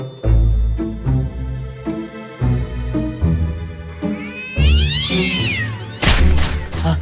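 In a Telugu village comedy cartoon, a person's voice imitates a cat, letting out a string of loud, close meows and drawn-out wails that repeat across the whole stretch.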